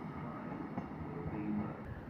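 Great Western Railway train to London Paddington rumbling along at a station, a faint low rolling drone with soft clatter and a brief squeal near the end.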